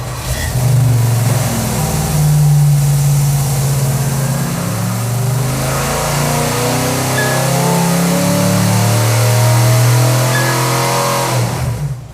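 A hot-rod big-block engine is revved hard on a dyno during a power run from about 2,500 to 5,000 RPM, producing a loud, close, sustained roar that climbs steadily in pitch before cutting off at the end.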